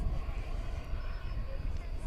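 Air Canada flight 1071 from Montreal taxiing at night at DFW Airport, a steady low jet engine rumble and whine under continuous chatter from nearby spectators.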